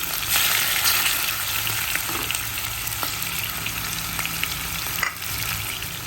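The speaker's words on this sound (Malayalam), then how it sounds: "ചെമ്മീനൊക്കെ നല്ല ഫ്രൈ ആയി വരുന്നുണ്ട്" Prawns fry in a pan for Kerala-style prawn biryani, giving a constant loud sizzle broken by occasional stirring clicks and scrapes.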